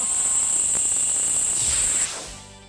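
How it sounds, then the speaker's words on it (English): Brood X cicadas in Cincinnati, Ohio, 2004, make a loud, steady high-pitched droning buzz that cuts off abruptly near the end. "The cicadas are coming!"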